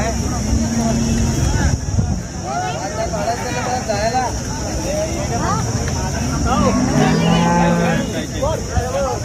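Cows moo repeatedly at a busy livestock market in Sangola, long bellowing calls rising and falling, near and loud, with people talking throughout and a steady crowd hum beneath.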